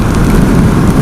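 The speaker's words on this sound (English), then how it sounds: "I think it starts to rain." Rain setting in within a war video game, a dense steady hiss and patter that holds evenly loud for a brief moment with no voices.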